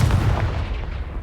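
A Confringo fire spell blast in Hogwarts Legacy, a booming, explosive burst with heavy low rumble that decays quickly, loud and close.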